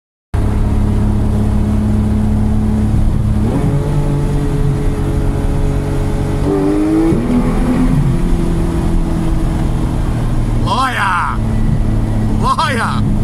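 A Porsche GT3 engine rumbles loudly in a tunnel, holding a steady drone with a few rising revs, while a person talks over it in the car.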